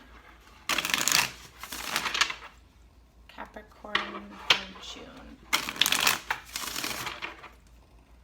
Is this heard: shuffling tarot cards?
yes